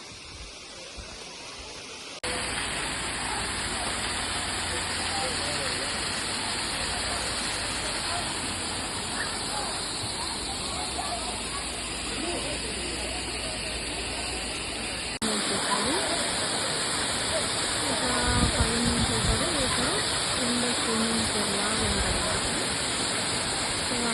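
Rock Glen waterfall in Ontario roars as a dense, continuous rush of falling water, loud and near, swelling slightly louder partway through.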